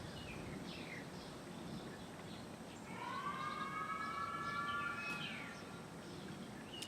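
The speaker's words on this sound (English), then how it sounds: "I think they're testing sirens at the sheriff's department over the tracks." A sheriff's department siren being tested across the railroad tracks, rising and wailing faintly in the distance for a few seconds over a quiet outdoor background with occasional bird chirps.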